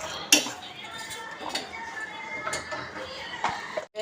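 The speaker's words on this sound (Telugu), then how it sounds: "ఇప్పుడు కారం వేస్తున్నానండి, ఊరికే కదిపేద్దాం బాగుంటుందని వేడి మీద" Utensil stirring chilli powder in a hot pan on the stove, with scattered sharp metallic clinks and scrapes against the pan over a quiet kitchen background.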